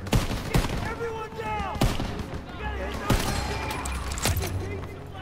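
Machine gun fire from a barn in the WWII shooter Call of Duty: WWII, sharp bursts and single cracks of gunfire at irregular intervals amid battle noise and whistling shells, with voices underneath.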